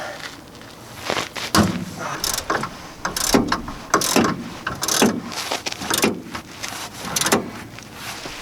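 Torx T50 hub bolt being broken free behind the wheel of a Mazda during hub replacement, a series of irregular metallic clicks, ratcheting clanks and knocks, close and moderately loud.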